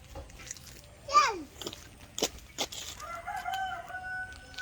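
A rooster crows once in a short rising-falling call in a village, followed by clattering knocks and faint children's voices in the background.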